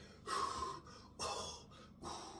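Heavy, effortful breathing during a shoulder warm-up in a workout, with three loud breathy bursts of exhaling and inhaling up close and short quiet pauses between them.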